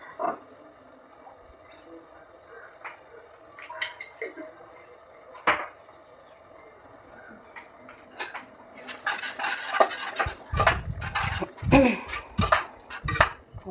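Spices, including coriander powder, being stirred in a pan for palak paneer: scattered scraping and clinking of a utensil against metal, sparse at first and growing busier and louder toward the end.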